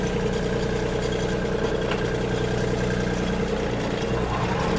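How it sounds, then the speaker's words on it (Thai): Steady idle of a 2020 Kubota B2740S tractor with a cane guard frame and about 400 hours of use, a close, even mid-low engine drone running unchanged throughout with no other sounds. "เสียงเครื่องปกตินะครับเสียงเครื่องไม่เข็ม"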